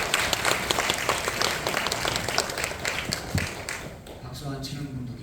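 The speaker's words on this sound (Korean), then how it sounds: "박수 올려드리겠습니다." A church congregation claps in sustained applause during a Korean worship service, dense and steady, then fading as a voice begins to speak near the end.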